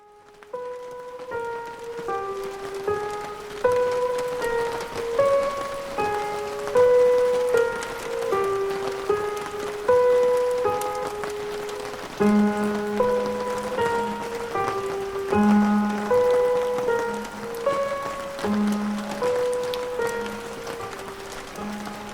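Steady rain falls softly and evenly throughout, a constant hiss beneath gentle melodic music with sustained tones, with no voices present.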